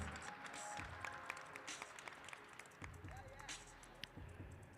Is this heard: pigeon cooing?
no